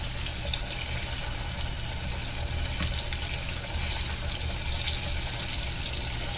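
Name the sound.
eggplant frying in oil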